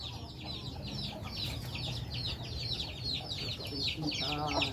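Farmyard chickens, some of them sick with a cold, cluck and chatter repeatedly up close, with a brief rooster-like call near the end and soft human voices in the background.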